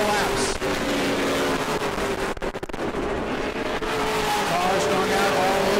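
Pro Late Model race cars roar continuously around New Smyrna Speedway in a Hoosier Series event, a dense loud engine drone with commentary running over it.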